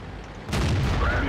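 A single heavy tank cannon shot from a T-44-85 Soviet medium tank in World of Tanks, a sudden booming blast that follows a low engine rumble and rings out with a rolling tail.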